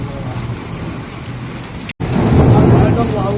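Heavy rain pours down steadily during a violent thunderstorm in Al Soudah, with a dense hiss of drops and a deep thunder rumble swelling loudly after a brief cut.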